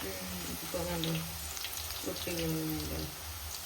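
Potato chips frying in coconut oil and being stirred, a steady crackling sizzle running throughout with a voice talking over it near the start and again toward the end.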